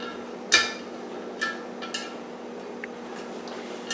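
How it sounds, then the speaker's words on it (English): Metal screw clamps being tightened on the lid of an All American pressure canner, with a few faint metallic clicks and light knocks over a steady background hum, close by. "These screw clamps, you want to do one on either side, and you clamp it down like so."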